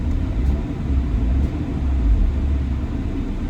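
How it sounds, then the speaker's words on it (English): A 2010 Audi A4 2.0 TDI S-Line diesel sedan engine runs with a steady low rumble, revved briefly with a modest swell in the middle, close and without speech. "I'll just rev the car and check."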